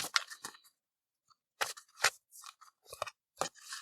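Tarot cards are handled and drawn, giving crisp, close shuffling snaps and papery flicks in irregular bursts separated by short silences.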